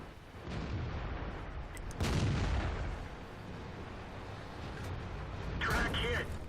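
An M24 Chaffee light tank cannon firing in World of Tanks, a heavy boom near the two-second mark followed by a rumbling tail, with a second, smaller blast late in the clip over a steady battle din.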